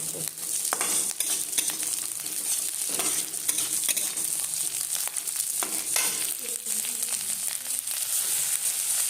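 Peas and carrots stir-fried in a pan for homemade Maggi noodles, giving a constant close sizzle with repeated scraping and stirring strokes throughout and no talking.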